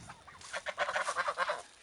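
A run of nasal goose honks, several birds calling in quick overlapping bursts, fairly close and moderately loud.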